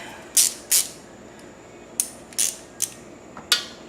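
18mm spanners clicking and clanking while working on the front suspension of an Audi A4 with a clunking fault: about seven short, sharp metallic ticks and clacks, near and moderately loud, spaced irregularly with quiet gaps between.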